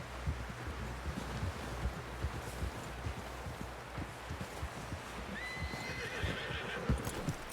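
Horse in Red Dead Redemption 2 in a snowy, stormy setting, hooves thudding in a steady clip-clop rhythm under wind with a couple of whinnies near the end, moderately faint overall.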